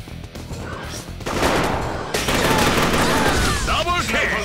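Rifle, sniper rifle and pistol fire in a first-person shooter game crackle as dense, overlapping volleys, loud and continuous, growing busier midway with sharp bursts and ringing tones toward the end.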